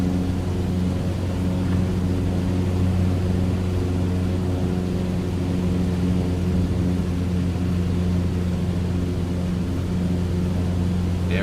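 Steady, close drone of a Cessna 152 piston engine in Microsoft Flight Simulator 2024, a constant low harmonic hum with no breaks and no talking.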